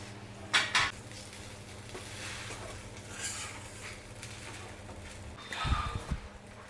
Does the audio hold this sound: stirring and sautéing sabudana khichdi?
yes